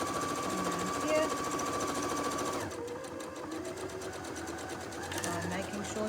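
A sewing machine stitches an apron strap in a steady, close, fast mechanical whir with rapid needle rhythm, the tone shifting partway through as the pace changes, with a voice talking over it.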